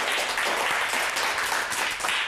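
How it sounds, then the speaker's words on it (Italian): Dense, steady applause from a group of children in a local TV football show studio, continuous and fairly loud throughout with no voices standing out. "Fate l'applauso a Massimo, bambini."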